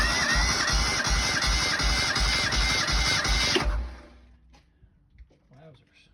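A 1983 Ford EXP engine cranks steadily and rhythmically during a compression test, loud and close for about three and a half seconds, then stops abruptly, leaving near-quiet with faint movement.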